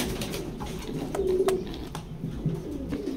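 A pigeon coos in a racing pigeon loft, a close, low, rolling call repeated a few times over a steady background hum.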